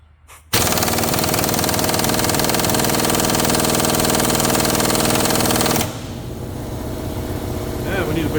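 A pneumatic impact gun hammers at an 18 mm track bar bolt on a 2004 Dodge Caravan rear axle, a loud sustained rattling burst of about five seconds that cuts off, followed by quieter shop noise.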